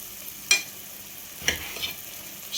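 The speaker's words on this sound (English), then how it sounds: "Я режу баклажан на кусочки." A knife cuts an aubergine into chunks on a plate with no cutting board. Two distinct scraping knocks sound about a second apart, with a fainter third one after, over quiet background hiss.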